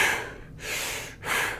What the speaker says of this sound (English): And Bastrika is that bellows breath